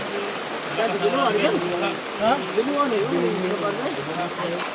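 Floodwater rushing in a steady loud roar, with a voice calling out and talking over it.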